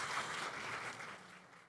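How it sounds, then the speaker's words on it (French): An audience at the opening ceremony of an international forum claps in a soft, distant patter of applause that fades slightly toward the end, with no voices over it. "On peut encore l'applaudir, hein?"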